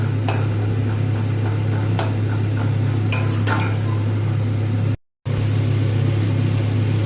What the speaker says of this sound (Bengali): ভালো করে মশলাটাকে কষিয়ে নেব তেল ছাড়া পর্যন্ত